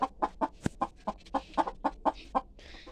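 A large rooster and hens cluck close by in a quick, regular series of short clucks, one sharper call breaking the rhythm.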